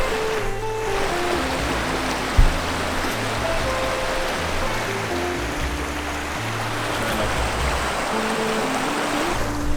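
River water flowing steadily at a campsite in Utah, a broad continuous rush close by with no talk.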